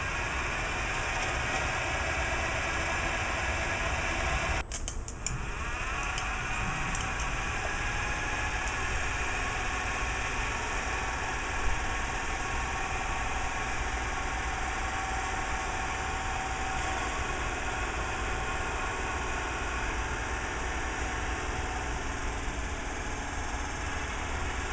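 An electric motor fed by a weak old battery spins through a dry gearbox, making a steady low mechanical hum with a faint whine that runs unbroken, apart from a brief clunk near the start.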